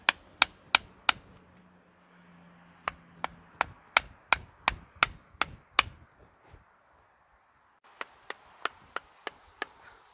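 Sharp wooden chopping blows split the hard husk of an unripe durian in quick bursts, about a dozen hard cracks with short pauses between groups, close and loud.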